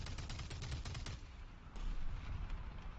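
A .50 cal machine gun on an M24 Chaffee tank in War Thunder fires a rapid burst of about ten shots for just over a second, followed by faint rumbling battle noise.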